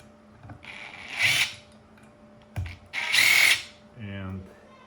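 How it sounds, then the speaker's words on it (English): A Phillips number 2 driver unscrewing screws that hold two parts of a crypto mining unit together, with short whirring bursts of the driver, a faint ratcheting click at the end and a quiet voice in the background. "Let's unscrew all these screws, 6 screws holding these 2 parts together."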